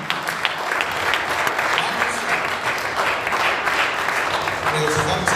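A church congregation applauds during a service, giving steady, sustained clapping throughout with voices mixed in.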